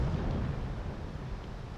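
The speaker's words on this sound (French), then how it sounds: "c'est l'explosion du vaisseau amiral français l'Orient" The French flagship L'Orient, one of the most powerful ships of its time, blows up in battle. It comes through as a deep, rolling low rumble that fades slowly over about two seconds, with no voices.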